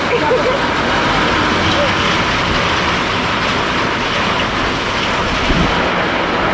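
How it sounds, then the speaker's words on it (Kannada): Steady, dense rain pours down close by, a constant hiss with a low rumble underneath and no pauses. "ಬಿಸಿಲು ಭಾರಿ ಇತ್ತಲ್ರಿ ಮಳೆ ಬಂದ್ರಿ"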